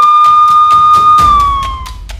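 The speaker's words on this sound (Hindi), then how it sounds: "पुलिस की गाड़ियों के बजते सायरन" A loud electronic police car siren wails with a steady high tone that slowly drops in pitch, punctuated by regular sharp pulses, close by.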